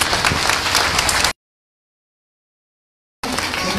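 Audience clapping in thanks at a Srimad Bhagwatam katha in Garhi, Delhi: close, busy applause that drops out to silence for about two seconds, then returns briefly.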